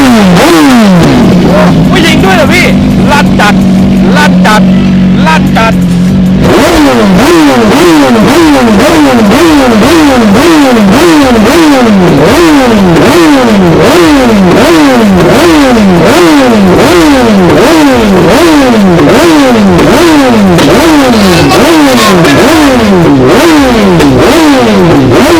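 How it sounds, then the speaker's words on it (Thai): A BMW S1000RR superbike engine revs hard on the road, first a sustained high drone, then a long series of rapid rising and falling throttle blips, very loud and close, with voices faintly beneath. "เดี๋ยวเราลองมาฟังเสียงเครื่องยนต์กันดูดีกว่า"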